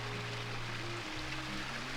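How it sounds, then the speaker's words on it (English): Water runs steadily at a mountain water source during a stone sheep hunt, a close, constant rushing wash with a low hum beneath it. "It's the sound of water, which is awesome."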